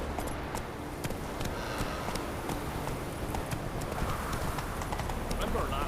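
Horse hooves clip-clop in The Witcher 3: Wild Hunt, played on PS4, sharp repeated hoofbeats in a quick, uneven gait under continuous talk.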